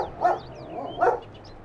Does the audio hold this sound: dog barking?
yes